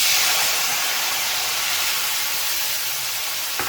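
Tomatoes sizzle in a hot pan for gongura pachadi made with prawn shells, giving a loud, steady, close hiss that holds unbroken throughout with no voices.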